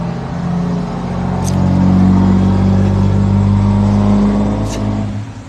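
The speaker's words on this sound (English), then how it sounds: "I don't know if you can hear that truck rumbling behind me." A truck rumbles close by on a Detroit street, its deep engine drone swelling and easing over several seconds with no talking.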